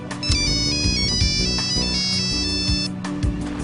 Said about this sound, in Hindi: लो, इनके यहाँ पहुंचते इनके फोन भी शुरू हो